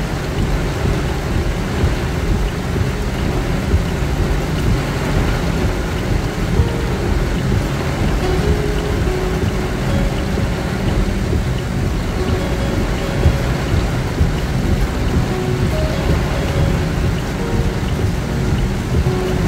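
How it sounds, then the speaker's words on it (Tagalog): Heavy rain pours steadily throughout, a dense, continuous drumming on surfaces with no voices. "Malakas ang ulan."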